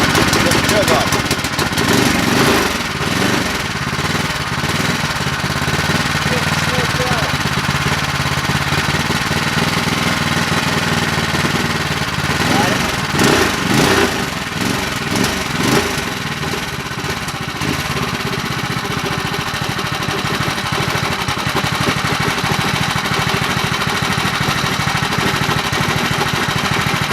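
A Hemi Predator 212 small engine runs loud and close for a long, continuous stretch, with a rough mid-pitched drone that surges at times, while people talk over it.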